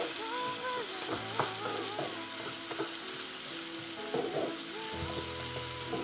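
Egg with tomato and onion fries in a pan, a steady close crackling sizzle with occasional stirring scrapes, and nobody speaks.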